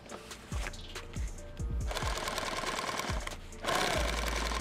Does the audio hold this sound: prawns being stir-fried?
no